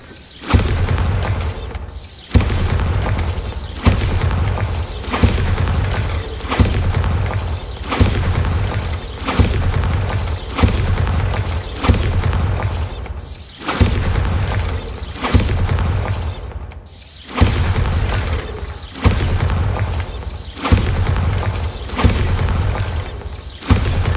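Bombarda spell explosions in the video game Hogwarts Legacy, loud booming blasts repeating in a steady rhythm roughly every second or two across the whole stretch, each with a deep thump and a bright crackling tail.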